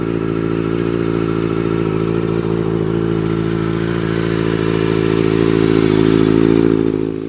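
Kawasaki Z750 motorcycle engine idling steadily up close, a continuous loud rumble with a slight rise in revs toward the end and no talking.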